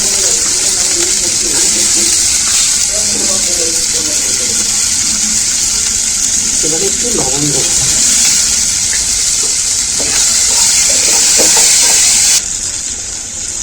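Onions frying in a pan of oil for a Bengali egg curry, a loud, steady sizzling hiss running throughout while a voice speaks over it.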